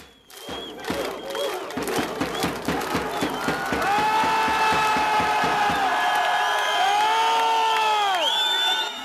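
A large crowd of protesters, chanting in the style of football fans, claps in a steady rhythm, then breaks into loud, sustained cheering and chanting with many voices.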